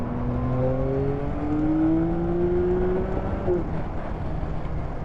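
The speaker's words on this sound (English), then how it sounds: "The way the engine blips. Yeah, there's a great sound through the airbox." A 2023 Yamaha XSR 900 motorcycle engine revs up through the airbox, the pitch climbing smoothly for a few seconds before dropping back, up close and clear with no talk.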